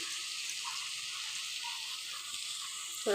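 Bhola fish curry sizzles and fries in a pan as it is sautéed with Kashmiri chilli powder and sugar, a steady soft hiss throughout with a brief stir or clatter near the end.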